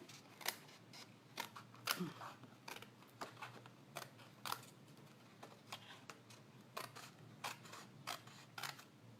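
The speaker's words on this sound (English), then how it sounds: "I'm just going to simply chop this out with the scissors." Scissors snip repeatedly in quick, irregular crisp cuts, close and fairly quiet, with soft rustling between strokes.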